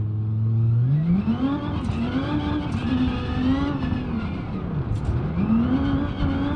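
Race car in BeamNG.drive driven fast on a jungle island time trial, engine revving hard and loud with pitch rising and dipping through gear shifts and corners, no talk.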